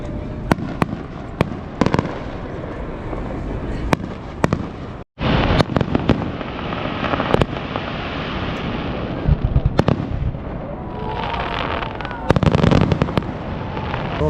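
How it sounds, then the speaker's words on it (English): Fireworks go off over a harbor in a dense, continuous barrage of booms and crackling pops. Sharp bursts layer over a rumbling wash for the whole stretch, with a brief gap partway through. "they put on a fantastic fireworks display in the harbor"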